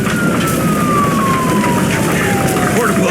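Police car siren in the cyberpunk noir video game Nobody Wants to Die, a single long descending wail passing by under loud, rumbling engine and ambient noise.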